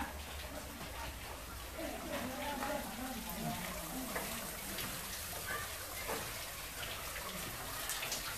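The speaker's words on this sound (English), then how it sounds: "So yeah, waterfalls." Steady rushing water from a waterfall near a cave in Auckland, New Zealand fills the background, a continuous splashing roar, with voices talking faintly underneath.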